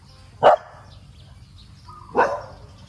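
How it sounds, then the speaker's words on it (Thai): A dog gives two sharp, loud barks about two seconds apart, close by, with near silence between them. "แล้วหลงเห่าใครลูก"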